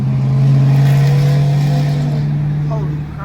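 Car engine, likely a Dodge Challenger, revving at a car meet: a loud, close, sustained low droning roar, with people talking over it.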